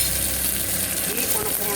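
Curry leaves sizzle and crackle in hot oil for sambar, a dense, steady close frying hiss filling the moment without a break.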